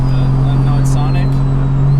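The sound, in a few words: Toyota Supra project car driving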